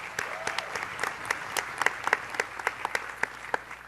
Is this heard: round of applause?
yes